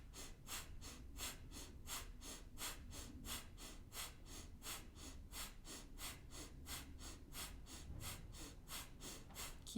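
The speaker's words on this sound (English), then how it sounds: "Exhale all the air from your lungs. Inhale at the top. Breath of fire, let's go." Rapid rhythmic Kundalini breath of fire, forceful nasal exhales pumping about two per second in a steady even pulse, close to the microphone and quiet, with no talking.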